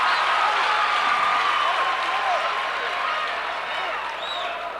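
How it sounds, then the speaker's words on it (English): A basketball crowd in a gym cheers and applauds after a made free throw on a 1-and-1, a loud, sustained wash of clapping and voices that slowly fades near the end. "If there's a loud cheer, you know he made it."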